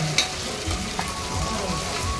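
Tomatoes tipped into a pan of onions fried to light golden brown for chicken biryani, giving a steady, close crackling sizzle with a brief brighter burst near the start.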